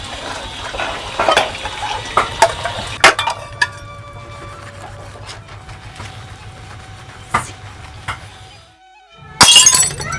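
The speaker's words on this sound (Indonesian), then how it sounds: "Piring itu kok bisa temeblok?" A ceramic plate breaks with a sharp crash, one of several clattering impacts over quiet background noise, closing with a bright, loud shatter burst near the end.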